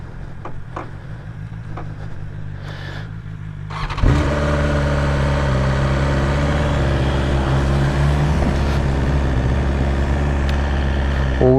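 A 2021 BMW S1000RR sport motorcycle engine rumbles at idle, then is revved once and settles into a loud, steady running drone close by.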